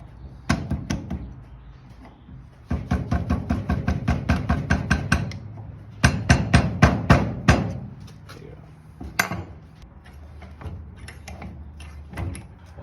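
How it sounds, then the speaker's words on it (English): Rapid series of knocking taps from a small rubber hammer on a flathead screwdriver, whacking a CRF 150R rear shock with BBR spring into place, in several bursts of repeated blows, close and sharp. "I use a little rubber hammer and a flathead just to give it a little whack into place"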